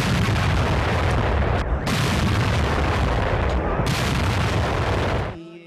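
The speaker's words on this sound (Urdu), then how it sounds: "صبح سویرے پاک فوج کے چاق و چوبند دستے نے وفاقی دارالحکومت اسلام آباد میں 31 اور صوبوں میں 21 توپوں کی سلامی دی۔" A Pakistan Army cannon gun salute in Islamabad booms loudly, with sustained heavy blasts broken by brief gaps and reverberating outdoors, and no talk over it.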